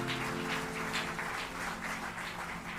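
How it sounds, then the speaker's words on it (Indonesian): Congregation at an online church service clapping in applause, a faint, fairly rhythmic patter of hands over a low steady hum. "Boleh berikan tepuk tangan buat Tuhan."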